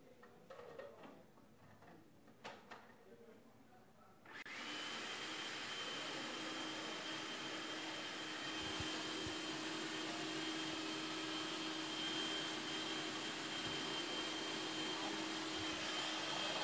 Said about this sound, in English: now we're going to blend them together